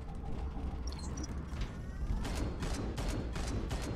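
Automated turret firing bursts inside a derelict space hulk corridor in Space Hulk Deathwing, a run of sharp repeated shots in the latter half over steady game ambience.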